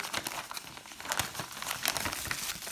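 Close, continuous crinkling of a plastic bag being opened and unpacked, with irregular rustles and sharp crackles throughout and no talking; the bag holds computer RAM modules.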